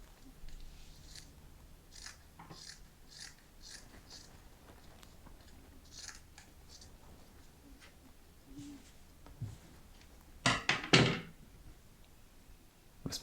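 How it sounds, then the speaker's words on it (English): Scissors cut the long sleeve off a T-shirt in a straight line, giving soft, repeated snips and fabric rustle close by, with a sharper burst of cutting noise near the end. "we're going to hack off one of the long sleeves, just cutting in a straight line"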